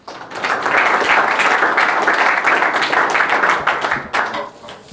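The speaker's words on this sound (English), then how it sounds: "Please welcome him with a round of applause." A workshop audience at a sport performance innovation forum applauds to welcome a speaker, steady dense clapping from many hands filling the room for about four seconds before tapering off.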